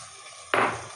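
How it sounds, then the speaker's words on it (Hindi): Water poured into a cooking pot of sizzling fried ginger and garlic for an aloo gosht shorba, a sudden loud rushing hiss starting midway that stays strong and slowly eases, after a quieter steady background. "अब हम इसमें थोड़ा सा पानी डालेंगे"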